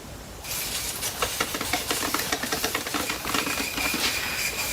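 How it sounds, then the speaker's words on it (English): Brake cleaner aerosol blasts onto rear brake parts of a Toyota 4Runner in a steady, close hissing spray, with a few short sputters and rattles partway through and no talk. "And then we blast this off with brake clean, living up to its name."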